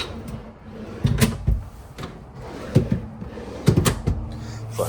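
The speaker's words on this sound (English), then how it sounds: "pull out drawers." Kitchen drawers being pulled out in a 2021 Forest River Sandpiper 379FLOK fifth-wheel RV, several close wooden sliding thumps and rattles in quick succession, with no talk over them.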